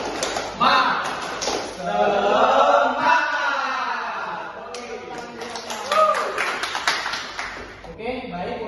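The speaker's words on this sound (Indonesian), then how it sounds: "Oke, kita akan tepuk semangat bareng-bareng ya. 1, 2, 3, tepuk semangat." A school class claps along in a rhythmic spirit clap, scattered taps and claps mixed with children and a teacher chanting and talking throughout, close and lively.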